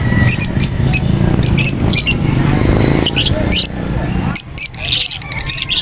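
Parrots, including green Opaline and Personata birds, chirp and squawk in repeated bursts at a busy pet market in Angeles City, with crowd murmur underneath and someone talking nearby.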